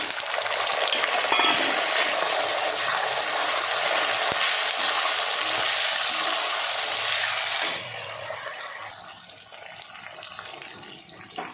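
Onions and chana dal sizzling in oil in a pan for a Tamil piradai thovayal, a steady loud hiss that drops to a softer fry toward the end, with no talk.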